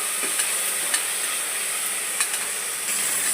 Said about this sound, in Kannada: ಕೊತ್ತಂಬರಿ ಹಾಕಿ ಸ್ವಲ್ಪ ಎಣ್ಣೆಗೆ ಫ್ರೈ ಮಾಡ್ತೇವೆ ನಾವು